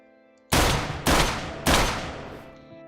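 Three loud, close gunshots from a commissioner's gun in a Minecraft parody mod, fired about half a second apart, with each blast decaying into a booming tail and no talk.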